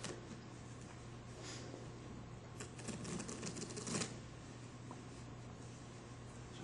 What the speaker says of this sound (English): Turn them upside down and shuffle them into the other part.